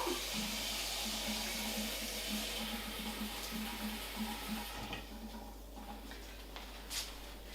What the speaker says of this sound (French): On remet de l'eau.